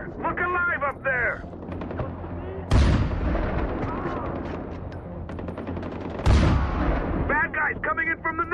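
Heavy gunfire and explosions in the Far Cry 4 video game on Xbox 360, with loud blasts and sustained rattling fire under shouted voices.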